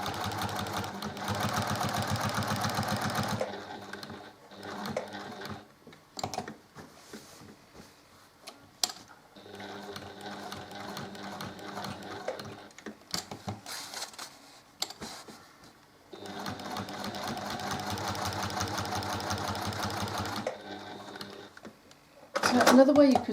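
A sewing machine stitches a quilt block in three long steady runs of fast, even whirring, separated by quieter pauses with clicks and handling noises as the needle is set down and the fabric pivoted.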